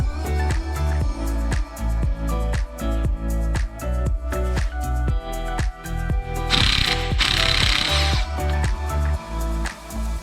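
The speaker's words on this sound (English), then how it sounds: "now we're going to loosen up the bolts so we can remove our front sprocket cover." Rapid ratcheting clicks of a wrench loosening bolts on the front sprocket cover of a 2015 Honda CBR 600RR motorcycle, steady and close, with a brief hissing spray burst partway through.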